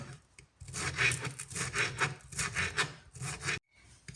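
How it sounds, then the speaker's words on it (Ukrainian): A knife slices through a bell pepper on a board with repeated rhythmic strokes, close and fairly loud, ending in a brief pause and a softer cut. "І так наш перчик дорізаємо до кінця"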